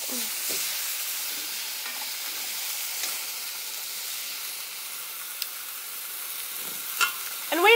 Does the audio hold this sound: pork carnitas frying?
yes